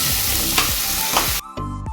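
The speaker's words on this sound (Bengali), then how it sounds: "এখন মা রান্না করছে পনির" Paneer cooking in a pan with a loud, close sizzle as a spatula scrapes and stirs in strokes; the frying noise drops briefly near the end before resuming.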